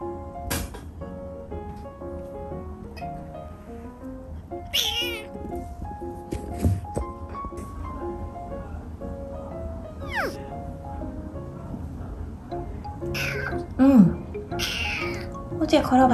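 A kitten meows several times with short high-pitched calls, heard over a steady low purring and soft background voices.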